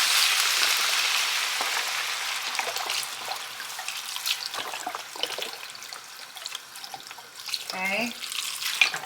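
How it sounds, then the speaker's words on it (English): A 32-ounce container of vegetable broth is poured into a soup pot, a steady close splashing and trickling that tapers off, followed by a brief clatter near the end. "we are going to add our broth. So I have vegetable broth here, and it's a whole container"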